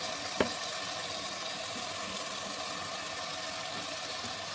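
Dal being sautéed with salt, turmeric and spices in a pan gives a steady, soft sizzle throughout, with one brief sharp clink near the start.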